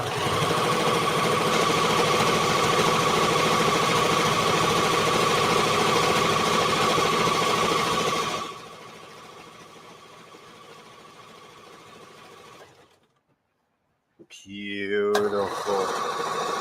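A home sewing machine stitching fabric cuffs runs in a steady, loud mechanical whir for several seconds, drops to a softer hum, then stops, followed by a brief rustle and a short spoken word.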